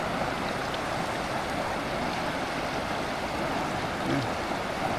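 Rapids below Snoqualmie Falls in Washington rush in a steady, dense roar of water, close and unbroken, with no voices.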